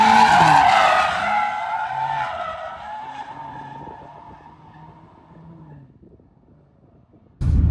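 BMW M5 G99 sliding sideways through a corner, tires skidding and squealing loudly, the screech fading over several seconds before a sudden loud burst at the end.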